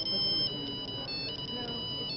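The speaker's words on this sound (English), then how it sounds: "download your favorite song as a cell phone ring." Cell phone ringtone made from a downloaded song, a steady high electronic melody with repeated tones playing throughout over a faint murmur of background noise.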